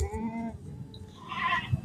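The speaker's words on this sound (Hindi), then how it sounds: "बकरी जो है ना अभी दूसरे सुए की बकरी अल्हम्दुलिल्लाह बेहतरीन बकरी है।" Milking goat of the Gulabi Ablak Sera print breed bleating on a farm, a clear cry rising over the middle of the short clip, with a nearby low rumble underneath and no talk.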